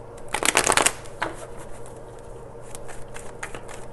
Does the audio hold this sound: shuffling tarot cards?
yes